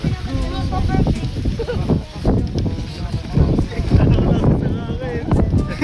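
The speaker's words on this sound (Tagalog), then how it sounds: "Lakas ng hangin." Strong wind gusts roar and buffet the microphone outdoors while a large kite is flown, with people talking and calling out over the rushing, fluctuating noise.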